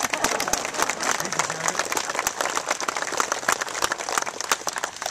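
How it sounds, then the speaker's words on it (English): Audience at a veterans bill signing in Haddon Heights claps steadily, a dense crowd applause filling the room with voices mixed in. "Sure, you can clap."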